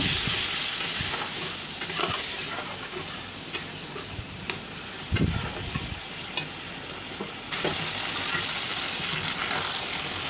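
Banana stem curry fries in a pan with turmeric and chili powder while a small amount of water goes in and it is stirred, making a steady sizzle with intermittent scraping stirs close up.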